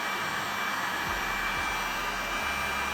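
A heat gun blows a steady, loud, airy whoosh close by as it warms 3D carbon-look hydrographic film over exhaust tips, holding an even drone throughout.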